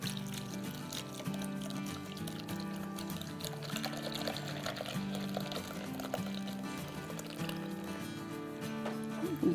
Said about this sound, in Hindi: चलें अब हम इसमें अपना 3 कप दूध डाल देते हैं।